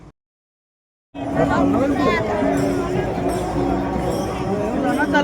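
Huge crowd of pilgrims at the Pandharpur wari procession: after a brief silence, a dense, continuous murmur of many voices and chatter rises and holds, close and loud.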